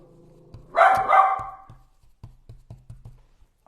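A young puppy barks twice in loud, close yaps, followed by a quick run of softer, smaller yips.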